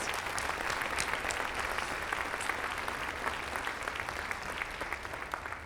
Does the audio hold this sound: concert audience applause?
yes